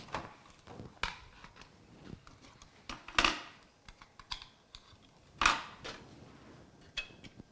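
Quiet, close keystrokes tap out on a computer keyboard during a PC build, irregular clicks and a few sharper clacks spread across a hushed room, with no talking.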